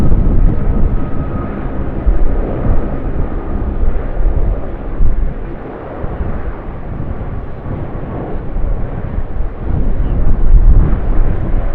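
Airbus A330 jet engines of a Qantas aircraft at Sydney Airport, a loud, steady broadband roar that swells and eases slightly over about twelve seconds, with no voices.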